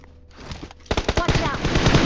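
Rapid automatic gunfire in the battle royale game BGMI, a burst of sharp, loud, closely spaced shots following a quieter opening, firing in quick rhythmic bursts.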